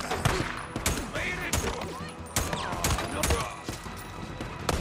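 Gunfire in the PS5 video game Days Gone comes as several sharp, loud shots and short bursts over game music and ambience, with someone talking between the blasts.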